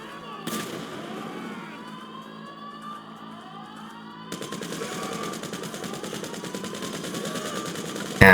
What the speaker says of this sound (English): We're going to start trying to gun our way there.